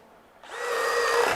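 DeWalt DCD805 20V hammer drill driver, set to drill mode, boring an auger bit through a 2x4: a steady, loud whirring grind that starts abruptly and holds for about a second, with no talk.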